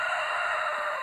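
A rooster on a homestead crows, a single short, bright call that is loud and close, with no other sound around it.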